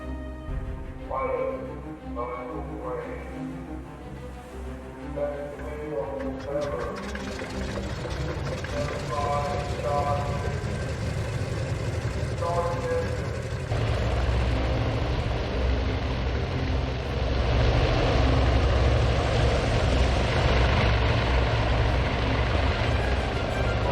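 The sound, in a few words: Wildcat aircraft launching from carrier deck, video game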